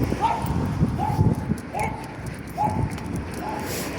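A neighbour's dog barks five times in a slow, evenly spaced series at moderate distance, each a short, rising bark. Outdoor rustling and footsteps fill the background.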